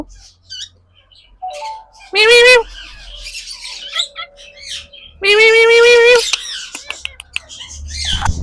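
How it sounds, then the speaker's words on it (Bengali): Two Indian ringneck parrots, large green and yellow birds on a parrot farm, give two loud, harsh squawk bursts of about a second each, with softer chirps and background noise between them. "দর্শক দেখেন সুন্দর দুইটা পাখি আছে ইন্ডিয়ান রিংনেক টিয়া পাখি"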